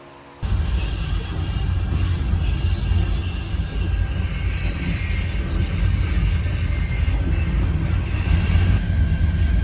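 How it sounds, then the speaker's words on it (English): A train passes steadily in front of a vehicle waiting at a railroad crossing, producing a continuous, loud, low rumble and rattle that carries on unbroken for several seconds with no talking. "Waiting on this train."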